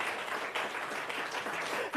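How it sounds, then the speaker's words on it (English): An audience at a hospital annual general meeting applauds in a soft, steady patter of clapping from across the room for a couple of seconds. "I think the applause was for me coming up."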